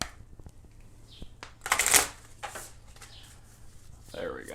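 A deck of tarot cards is shuffled by hand at close range, with a loud riffle burst in the middle and softer card slides and taps around it, while faint bird calls sound in the background.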